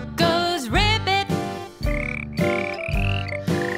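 Repeated ribbit-like croaks ring out in rhythm over a tuneful accompaniment, with a sliding pitch at the start, clear and close.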